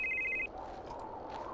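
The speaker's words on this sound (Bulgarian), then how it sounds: "Звъни от там някъде!" A phone rings briefly in a horror video game set in a forest, a short electronic trill heard close and clear before fading into a quiet, low ambient background.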